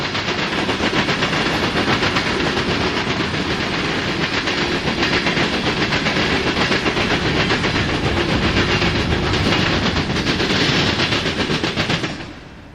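A CSX freight train, Q389, rolls past at a junction with a loud, steady roar and dense rapid clickety-clack of wheels over rail joints, continuing almost unbroken before cutting off near the end.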